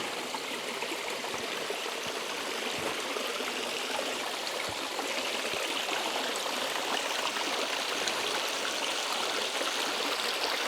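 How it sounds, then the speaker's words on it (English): A mountain stream on an Adirondack hiking trail flows steadily, a dense, even rush and babble of water that fills the whole stretch with no voices over it. "There's some water."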